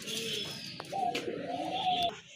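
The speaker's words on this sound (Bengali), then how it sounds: "একজোড়া ইন্ডিয়ান মুম্বাই কবুতর" Indian Mumbai pigeons coo in soft, drawn-out calls, a steady throaty murmur with a few brief clicks and rustles.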